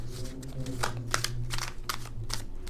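Tarot cards being shuffled by hand during a Christmas-themed pick-a-card reading, giving repeated soft riffling bursts close by over a steady low hum, with no talking.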